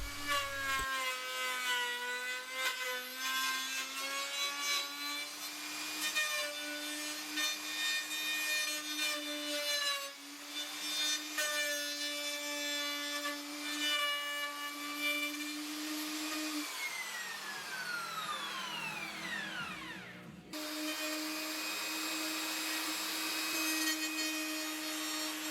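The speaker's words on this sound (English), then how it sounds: "I can use the trim router, the pattern cutting bit in the router, and trim the two new sides to final size" A trim router with a pattern cutting bit trims the edges of a wooden sign, a loud sustained high whine that shifts pitch as it cuts, dips briefly, then resumes steadily, heard alone.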